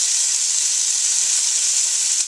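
Beef pieces sear in hot olive oil with a steady, loud, bright sizzle that holds evenly from start to finish, ending abruptly as the sound cuts away.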